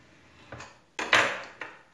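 A knife cutting sheets of pastry dough along a ruler for briouats, giving sharp tapping and scraping strokes against the board, close and fairly loud, with one longer, brighter scrape in the middle.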